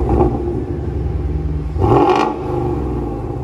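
A Ford Mustang with a Milltek non-resonated exhaust system revs up briefly with a throaty exhaust burst in the middle, over a steady idling rumble indoors in a workshop.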